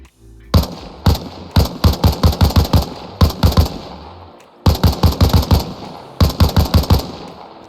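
An M16 rifle in a video game fires 5.56 rounds at a helicopter in loud, rapid bursts of sharp shots separated by short pauses, close and with no talking.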